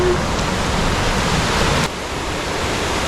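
Swift river water rushes along the Bealey Valley Track, a steady close broadband roar that drops slightly in level partway through, with no voices.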